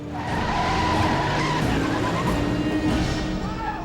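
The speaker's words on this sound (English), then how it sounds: "They drive off to find Giles" Car in the Buffy the Vampire Slayer episode tearing away with tires squealing, a loud continuous skid and engine roar filling the whole stretch.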